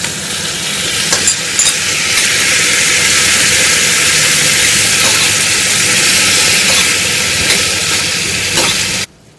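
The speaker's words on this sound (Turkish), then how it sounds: "Biberler yeterince yumuşayınca domatesleri tavaya gönderebiliriz." Steady, loud sizzling of tomatoes in a frying pan with softened peppers for menemen, a continuous bright hiss with faint stirring clicks, ending abruptly.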